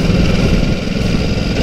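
A Ducati SuperSport S motorcycle engine on a downshift, with a close, loud and steady mid-pitched engine drone throughout and no talking.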